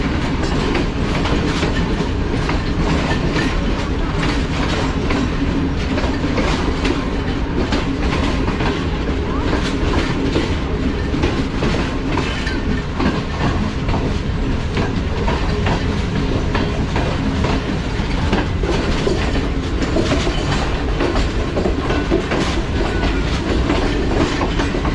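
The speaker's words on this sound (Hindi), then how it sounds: "रास लॉजिस्टिक की ट्रेन" A RAS Logistics freight train rolls past, a dense, loud and unbroken rumble with steady clickety-clack from the wheels on the rails, lasting throughout at close range.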